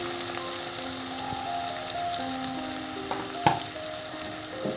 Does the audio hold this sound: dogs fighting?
no